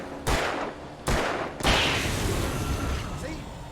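Gunfire in the video game Alan Wake Remastered: three sharp shots spaced about half a second to a second apart, the last trailing into a ringing, clattery tail over background game noise.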